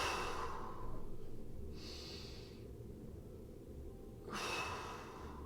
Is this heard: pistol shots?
no